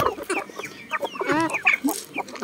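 A hen at a chicken coop clucks repeatedly at close range, a busy run of short squawky calls with no talking over them.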